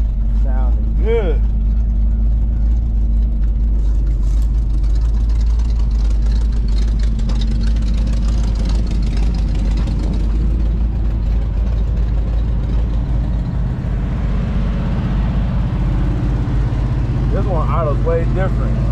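A newly bought car's engine idles steadily with a deep, loud, continuous rumble, while brief voices chatter over it near the start and end.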